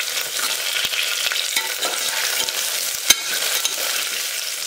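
Shallots and garlic sauté in a pan for tomato rice, a steady close sizzle and hiss with occasional soft scrapes and taps as they are stirred. No voices are heard.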